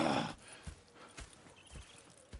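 Horse hooves clip-clop in an uneven walking rhythm in Red Dead Redemption 2, with a brief whinny-like burst at the start and a few louder hoof strikes.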